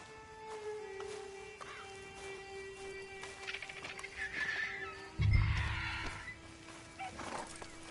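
A horse in the video game Dizzy whinnies, a brief mid-level neigh standing out over a sustained tonal game soundtrack, followed by a short low thump.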